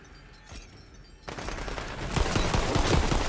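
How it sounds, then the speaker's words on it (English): Rapid automatic gunfire from a full-auto weapon in the video game Tiny Tina's Wonderlands, starting faint and swelling into a loud, dense burst of shots that continues to the end. "At least I can rapid fire that."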